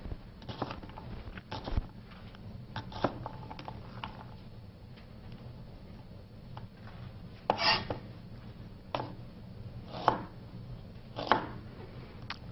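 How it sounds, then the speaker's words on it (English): A knife chops and dices a red onion on a cutting board in a kitchen, giving sharp, irregular close knocks spread over about twelve seconds, some louder strikes standing out, with no talking. "So I'm chopping up these onions, dicing it."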